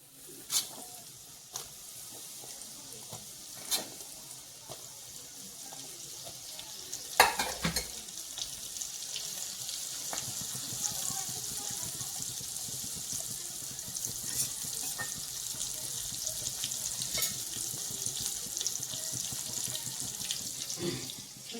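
Crispy corn kernels fry in hot oil with a continuous busy sizzle and crackle, steady and fairly close, broken by a few sharp clinks of a utensil against the pan and one louder knock partway through, with no talking.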